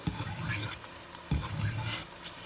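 Knife edge drawn across a sharpener to remove a burr: two separate close rasping strokes, each about two-thirds of a second long, with a short pause between them.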